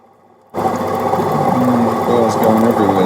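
Opal is ground on a 240 grit wheel, which starts up abruptly and then hums and whines steadily at close range, with a voice speaking over the grinding.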